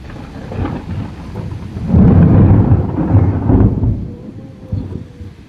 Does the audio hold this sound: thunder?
yes